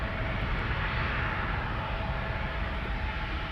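SAS CRJ 900 long-range regional jet departing Amsterdam Schiphol, a loud continuous engine roar at close range, steady and dense throughout, with no talking.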